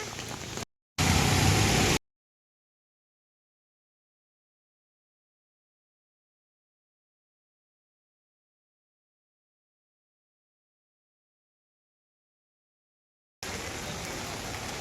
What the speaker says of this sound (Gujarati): મસ્ત વરસાદ પડતો છે